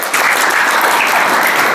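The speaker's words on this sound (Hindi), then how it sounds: "तो ताली तो बजाओ।" A hall audience at an inspirational talk breaks into loud, sustained clapping, a thick and steady roar of many hands that fills the whole moment.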